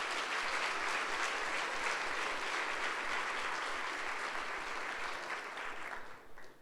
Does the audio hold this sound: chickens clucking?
no